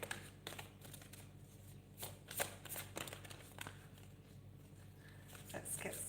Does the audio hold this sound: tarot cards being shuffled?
yes